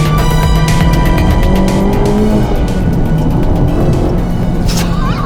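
A Honda Civic Type R driving just above the speed limit, its engine droning steadily and close with tire and road roar throughout, a few brief tonal whines rising over the constant loud rumble.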